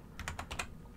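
Computer keyboard typing: a quick burst of about five sharp, close keystrokes in a steady rhythm over a faint room hiss, with no voices.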